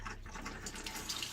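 A faucet runs with both hot and cold taps open during RV winterization, water pouring in a steady, moderately loud splashing stream without any voices.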